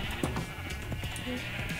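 Sheep bleat in a video game, several short wavering cries in quick succession over a steady game background hum.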